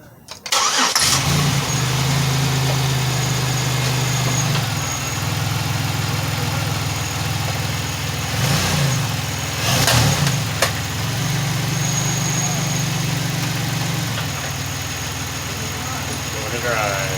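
A car engine starting after a GM remanufactured transmission and differential swap, cranking briefly then settling into a steady loud idle with slight revs, while people talk nearby.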